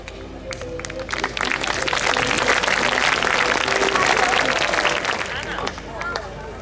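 Dense, steady applause from an audience after a Lipizzaner horse quadrille riding display at a university, sustained at full strength for several seconds before easing slightly near the end.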